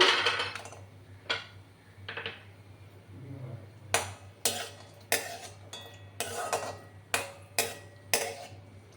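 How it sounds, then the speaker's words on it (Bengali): Cashews tipped into a pan for frying, landing in a series of sharp clinks and taps, about a dozen separate hits spaced irregularly, close and fairly loud over a steady low hum. "দেখো প্রথমে আমি কাজুগুলো দিয়ে দেব"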